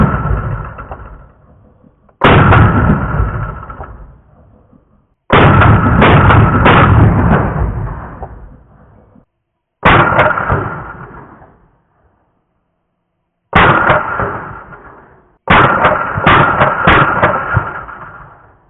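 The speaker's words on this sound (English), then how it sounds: "we shot quick bursts of fire between each two to capture the flash signature in" Quick bursts of AR pistol gunfire through an A2 flash hider at night, six sharp loud volleys of rapid shots, each trailing off into a decaying echo before silence and the next burst.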